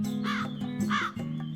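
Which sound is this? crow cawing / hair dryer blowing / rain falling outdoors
crow cawing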